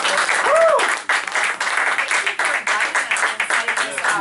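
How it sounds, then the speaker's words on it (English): An audience at a morning event with Florida state house candidates gives a round of applause, dense clapping that swells early and then continues as a steady, moderately loud patter for several seconds. "I think they deserve a round of applause"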